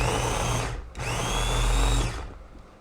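A blender purees peach for a peach mojito in two bursts, a loud steady whir of about a second, a brief pause, then a longer run that winds down near the end.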